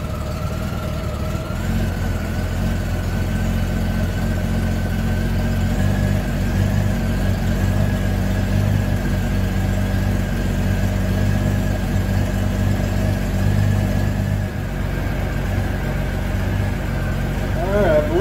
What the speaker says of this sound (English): So we're going to start it up and we're going to set our idle. All right, she's idling about 750-ish